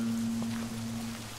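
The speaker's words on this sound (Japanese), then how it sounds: "雨が降ってますね。" Rain falls in the Western shooter Call of Juarez: Gunslinger as a faint, steady hiss, with a low tone holding underneath.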